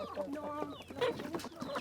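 Chickens cluck and chatter close by, a busy run of short squawks and calls with no talking.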